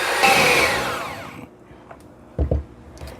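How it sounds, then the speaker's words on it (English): A mixer runs on low speed through donut batter with a steady, fairly loud whir that fades out partway through, followed by a couple of soft knocks and clatters in the bowl. "Then you're just going to mix these together on low."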